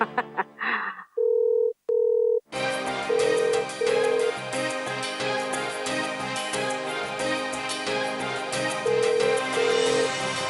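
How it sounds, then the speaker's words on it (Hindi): A phone call connecting: two short electronic ring tones, then a loud looping caller melody plays steadily over the line. "हम अगर फोन मिलाएंगे तो कन्हैया जरूर फोन उठाएगा।"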